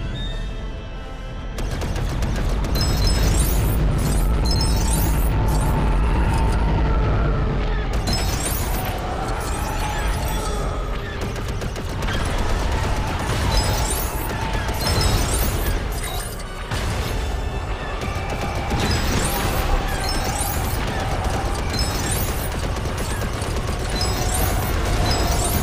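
Lego Star Wars: The Skywalker Saga gameplay, a dense, loud wash of blaster fire and explosions as TIE fighters are shot down, rumbling almost nonstop with rapid sharp bursts throughout.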